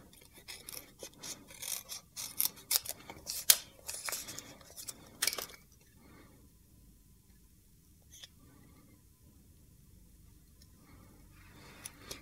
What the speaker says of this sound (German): Jetzt schnappen wir uns die Schere und schneiden die Möhrchen und diese kleine Schleife fix aus.